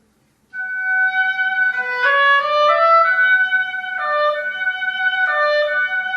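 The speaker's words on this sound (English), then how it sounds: "So I put that into the top of the oboe, and the oboe sounds like this." An oboe played solo with its double reed, moving through a short sequence of sustained reedy notes that change pitch several times, close, clear and steady, with no talk.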